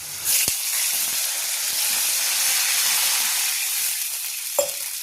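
A pot of salted water comes to a boil for fasting khichdi, giving a steady close hiss and bubbling roar with a couple of sharp knocks; no voices.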